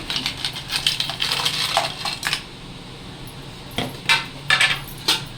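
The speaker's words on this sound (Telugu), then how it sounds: "ఆ తర్వాత ఇవన్నీ ఈ పీతలు అయితే దీంట్లో వేసేసుకోవాలి" Crabs dropped into a cooking pot of simmering masala, producing several sharp clattering knocks in two bursts, close and clear.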